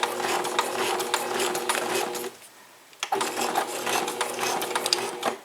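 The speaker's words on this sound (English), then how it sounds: "I'm just going to go ahead and start the process of sewing it in place" A sewing machine stitches paper journal pages in place, running in a steady loud whir with a brief pause midway before resuming.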